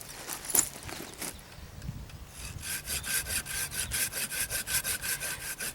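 A folding saw cuts through live wood in rapid back-and-forth strokes, close and alone, the rhythmic rasping building steadily after a few faint rustles.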